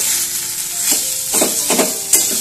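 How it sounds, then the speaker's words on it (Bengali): Mashed potatoes being stirred in a pan to form a stiff dough, with a low sizzle under three or four distinct scraping spoon strokes, close and without any talking. "তো আলুটা দিয়ে আমি একবার নাড়াচাড়া করে নিচ্ছি"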